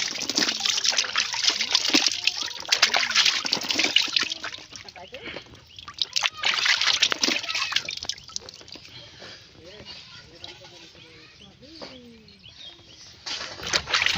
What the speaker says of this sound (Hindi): अब मैं सबसे पहले मुँह धो लेता